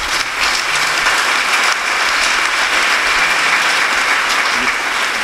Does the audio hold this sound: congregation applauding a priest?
yes